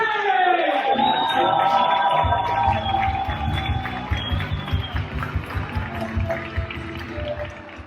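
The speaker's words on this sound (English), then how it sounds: "Everybody start making it loud for our boy, Kabir, Singh!" An audience at the San Jose Improv comedy club cheers and applauds loudly as comedian Kabir Singh is brought on stage. A dense roar swells at first, then settles into a steady clapping rhythm.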